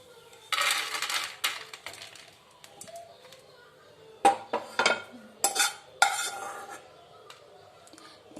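A spatula scrapes and clanks against a wok while fried gram-flour mixture for beson ladoo is moved onto a plate, giving several sharp metallic bursts separated by quieter pauses, close by.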